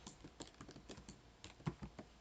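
Quick, uneven clicks of fingers typing on a computer keyboard using the home row, close and fairly quiet, with short pauses between bursts of keystrokes and no voices.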